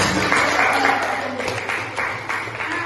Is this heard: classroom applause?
yes